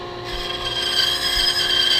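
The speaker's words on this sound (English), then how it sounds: "That line's just going to go right towards the bandsaw blade." A bandsaw cuts wood for a catapult, a steady high-pitched whine with a faint rasp of the blade through the wood, close and clear with no talking.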